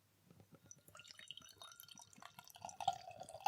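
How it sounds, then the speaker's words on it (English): Beer from a full 500ml can of Rivington Brewing Co Something Like A Discoball Gose pouring into a teku glass: soft trickling and dripping that builds into a steadier, louder gurgle of liquid filling the glass, close up with no talk. "We're pouring into my teku."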